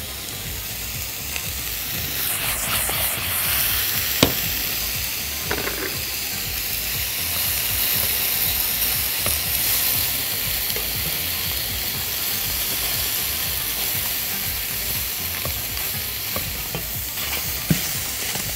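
Peaches fry in a hot pan with a continuous sizzle and hiss, broken by occasional scrapes and light clicks of stirring, and the cooking noise stays steady throughout.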